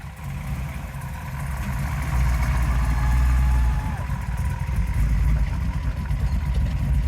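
A vehicle engine drones steadily while creeping along slowly in first gear, a low continuous rumble that rises slightly midway, with no clear talking over it.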